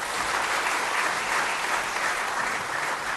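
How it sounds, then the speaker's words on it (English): Steady, sustained applause from a large seated audience at an award ceremony for agricultural research awardees, a dense wash of clapping at an even, fairly loud level with no talk on top. "let us give a big round of applause to the awardees"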